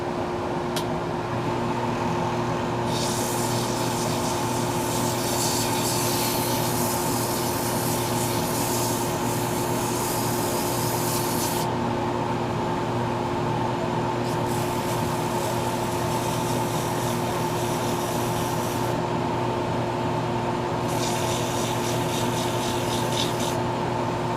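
150-grit sandpaper rubs against a wooden pen blank spinning on a lathe, a loud continuous whirring hum from the lathe with harsh rasping bursts as the paper presses on and lifts off repeatedly.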